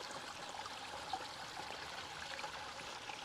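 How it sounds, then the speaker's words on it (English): Shallow water trickles down a small cascade in a restored garden pond, making a soft, steady babble that runs alone and stays fairly quiet throughout. "particularly in a cascade in shallow flowing water like this"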